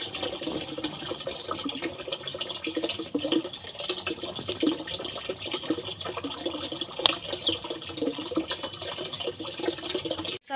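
Tap water runs steadily while fresh pond-caught puti fish are rinsed and washed in a sink, a continuous close splashing hiss with no talking.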